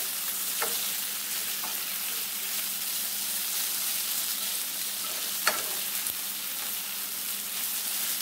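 Smoked sausage and sliced peppers fry in a pan with a steady, even sizzle, and faint scrapes of stirring come through now and then, with no voices.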